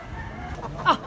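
A rooster at a rural farm in Consolacion, Cebu gives a single short crow, fairly faint and distant over low background noise.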